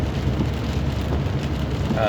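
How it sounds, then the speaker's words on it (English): Steady rain pours down on a windy morning, a continuous close hiss and patter that stays even throughout with no pauses. "we still got all that rain coming down, and it's supposed to rain all day today"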